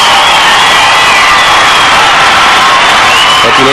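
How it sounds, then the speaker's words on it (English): A large crowd cheers and roars at a championship dog show, a loud, dense, sustained wall of cheering and whooping with applause blended in, filling the whole moment. "Listen to the crowd"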